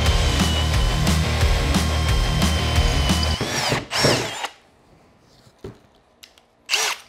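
Milwaukee M18 drill boring through a 4x4 wooden post, a loud continuous motor whine with a rhythmic grinding chatter for several seconds, then it stops, followed by a few knocks and handling thumps.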